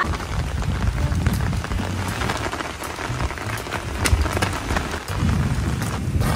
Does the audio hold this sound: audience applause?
no